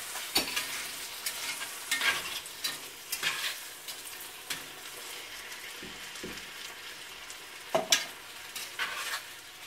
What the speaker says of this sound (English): then you throw the beans in. Stir that around.